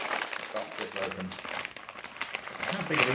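A plastic Malaysian Milo sachet crinkles and tears open up close, with rustling and crackling handling noises throughout.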